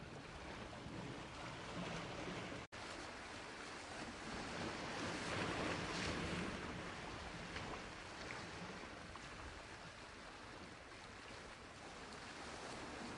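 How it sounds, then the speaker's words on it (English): Ocean waves lap beside a seaside cottage at night, a steady, soft, continuous wash of surf with a faint breezy hiss and no voices. "let yourself simply be the sounds of the waves and the faint hum of the night filling your senses"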